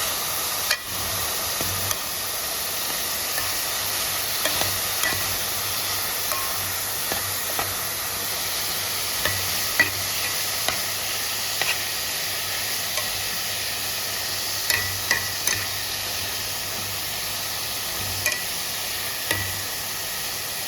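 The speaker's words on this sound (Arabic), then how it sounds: "دلوقتي بقى حطينا اللحمه على النار زي ما انتم شايفين كده ومتابعين تخمر. هنبدا بقى نشوح فيها." Meat sizzles and hisses steadily while being stir-fried in a pan on the stove, with occasional scraping stirs and spatters throughout, close up and with no talk.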